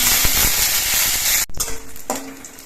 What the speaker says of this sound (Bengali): কিশমিশটাও ভাজা হয়ে যাচ্ছে